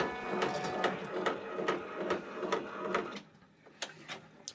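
An OESD embroidery machine stitches a tiled winter scene with a fast, even, pulsing mechanical rhythm up close, briefly easing before resuming.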